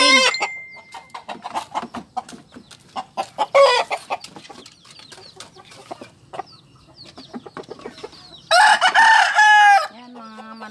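Chickens cluck and squawk close by outdoors in a busy, uneven chorus, and a rooster lets out a loud crow near the end.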